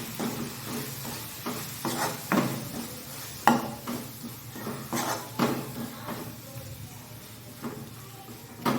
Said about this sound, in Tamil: இப்போது மசாலா சேர்த்ததுக்கப்புறம் ஒரு கிண்டி கிண்டி விடலாம்